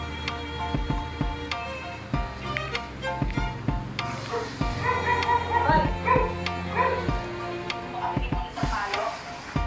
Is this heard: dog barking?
yes